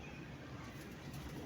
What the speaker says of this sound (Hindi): कबूतर उड़ाते हैं